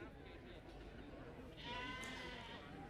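Sheep at a Dutch Spotted breed show, Royal Highland Show, bleating in short wavering calls over a busy background of crowd murmur and talk.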